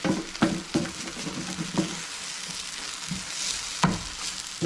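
Alugbati (Malabar spinach) sautés in a pan, its sizzle punctuated by several crisp knocks and scrapes from stirring, close and fairly loud.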